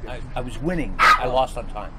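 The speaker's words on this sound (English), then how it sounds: "Whose dog is that?" Dog barking and yipping at a chess match, a couple of short yelps mixed in among people talking nearby.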